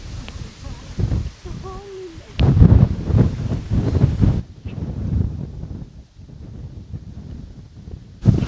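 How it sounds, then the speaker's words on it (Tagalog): Strong gusts on Mt. Gulugod Baboy buffet the microphone in loud uneven bursts and roars, with people talking and calling out between the blasts. "Lakas ng hangin."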